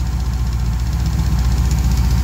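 A 355 cubic-inch four-bolt-main small-block V8 idles steadily up close, a loud continuous low rumble with a slightly lumpy cam-driven pulse and no voices over it.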